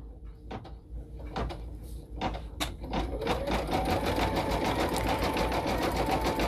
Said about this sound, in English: our final stitch will be the satin stitch around the feature fabric